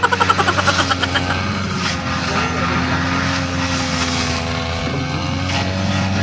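A farm spraying drone used over bean and bitter gourd fields hums with a steady, loud propeller drone, starting with a pulsing throb and then holding level, while people talk nearby.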